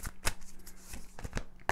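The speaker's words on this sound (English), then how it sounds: "I'm going to shuffle these oracle cards" A deck of oracle cards is shuffled by hand indoors, producing soft riffling and slapping bursts at an uneven rhythm, close and fairly quiet, with no talk.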